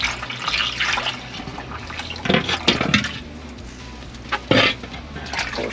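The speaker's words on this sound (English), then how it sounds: "pour some water in there" Water poured from a pitcher into a pan holding a smoked prime brisket, splashing and trickling in uneven bursts with a few louder gushes, close by, with no talking.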